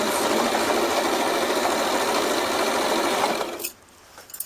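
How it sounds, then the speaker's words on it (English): Sewing machine stitching a T-shirt being turned into a dress, a fast steady close-up whir that stops abruptly near the end, followed by a few faint clicks. "So as you can see, I have started stitching."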